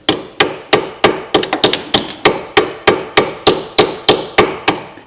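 Steady hammer blows tapping an 18 mm spanner onto a rusty drop link nut on a Corsa C, about fourteen sharp, evenly spaced metallic strikes, loud and close, with no voices.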